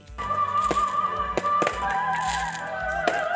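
Fireworks bursting at a Christmas lights opening in Dapitan, Mindanao, a series of sharp cracks and booms spaced about a second apart over a steady background tone, fairly close and loud.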